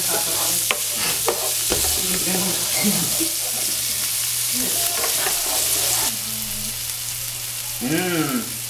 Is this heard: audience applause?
no